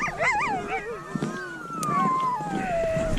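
Pack of sled dogs on the Greenland ice sheet howling and yelping in wavering, overlapping cries, with a long sliding howl rising above snarls and scuffles as they fight among themselves, loud and close.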